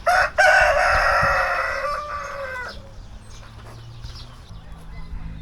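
A rooster crows loudly and close at the start with one long call, then quieter farmyard background noise follows, beside rice fields.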